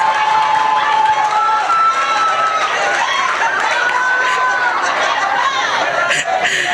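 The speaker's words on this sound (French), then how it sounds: "Les hommes acclamez-nous." A church congregation cheers and calls out in a steady crowd roar, with excited voices and a few claps mixed into the continuous noise.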